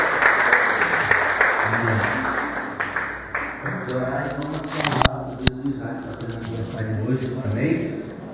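A church congregation claps during a service. The full, loud applause tapers off over the first few seconds, and a person then talks while a few claps and knocks continue underneath.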